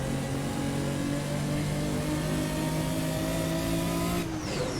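A race car engine in the Assetto Corsa racing video game revs loud and close, holding a steady high drone with slowly shifting pitch through the whole stretch and no talk.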